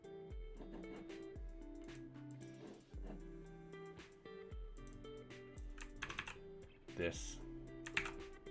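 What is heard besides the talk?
typing on a computer keyboard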